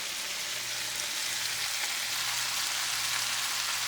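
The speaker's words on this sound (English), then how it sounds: "you see it's kind of sizzling there" Cabbage with sausage sizzling in a frying pan over medium-high heat, a steady bright hiss of frying that holds evenly throughout with a faint low hum beneath.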